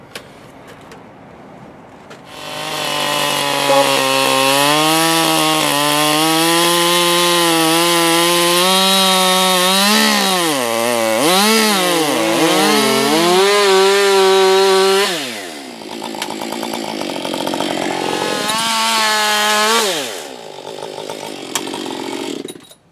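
A chainsaw cuts through a wooden plank for a bushcraft Viking chair, its engine loud and close, pitch dropping and rising as the chain bites into the wood, then easing off after about fifteen seconds before revving briefly again.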